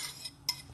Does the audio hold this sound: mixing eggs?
yes